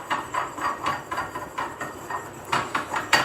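Roasted saffron is pounded in a heavy pot, giving a run of dull, evenly spaced thuds, about a dozen in three seconds, close and moderately loud.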